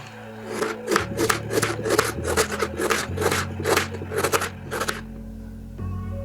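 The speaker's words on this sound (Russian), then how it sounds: "Берем одну среднюю луковицу и мелко нарезаем." A knife finely chops a medium onion on a board, about a dozen rhythmic, close cutting strokes in quick succession before the chopping stops and a faint tone remains.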